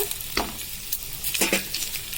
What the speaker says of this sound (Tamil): பாருங்க, பொரிஞ்சு வருது,